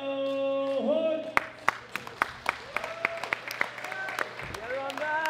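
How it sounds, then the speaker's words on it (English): Sharp scattered claps at a powerlifting championship ring out against a steady droning tone and background chatter, more a smattering of hands than full applause. "Big round of applause for Rondell Hunt."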